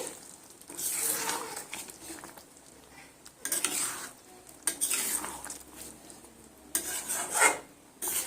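Spoon gently stirring egg biryani in a pot after kewra water is added, giving soft scraping and clinking bursts separated by quiet gaps, with no talk.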